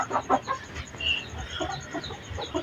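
Chickens clucking nearby in short, irregular bursts over a quiet background.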